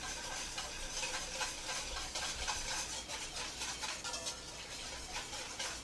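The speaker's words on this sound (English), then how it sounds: "I'm constantly moving my whisk around" A whisk moves steadily around a bowl, emulsifying a thin stream of oil into vinegar for a Niçoise salad vinaigrette, making a continuous close scraping, swishing patter without pause.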